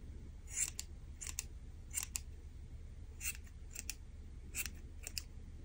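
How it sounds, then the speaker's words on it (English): Scissors snip repeatedly at a bulky yarn pom-pom for a crocheted stocking, with short, crisp cuts in small quick bursts and gaps between them, quiet and close. "And then just trim to make sure it has your nice pom-pom shape."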